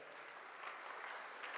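Applause from an audience at a school event in Azamgarh, a thin, steady patter of scattered clapping that stays fairly faint and even throughout, with no voices over it.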